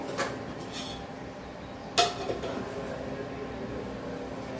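Mutton biryani rice stirred in a pot before the lid goes on: faint scraping with a single sharp metallic clank midway, under a soft voice.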